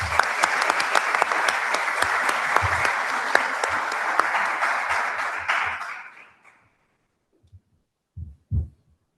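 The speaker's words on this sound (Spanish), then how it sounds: "Un aplauso." A crowd at the launch of the Cátedra Francisco church event gives loud, sustained applause for about six seconds, then the clapping dies away into quiet with a few faint thumps.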